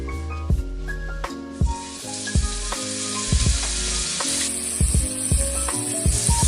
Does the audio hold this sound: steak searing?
yes